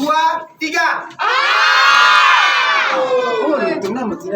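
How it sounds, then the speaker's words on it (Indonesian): Several people scream loudly together in a long sustained yell that echoes inside a tunnel, after a brief spoken countdown. "Coba kita teriak di hitungan ketiga"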